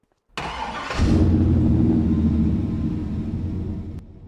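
An old Chevy truck engine in Farming Simulator 25 cranks briefly, catches with a loud roar and settles into a steady, rumbling idle close by.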